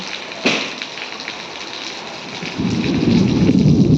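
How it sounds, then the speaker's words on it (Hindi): Thunder cracks sharply then rumbles during a heavy rainstorm on a rural farmyard, with rain hissing steadily throughout and a louder surge of rain near the end. "तेज़ बारिश से को बादल भी गरज रहा है"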